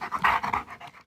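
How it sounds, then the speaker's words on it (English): A dog panting close by in quick, rhythmic breaths, about half a dozen soft huffs fading out at the end, with no talk over them. "Your dog is named Easter?"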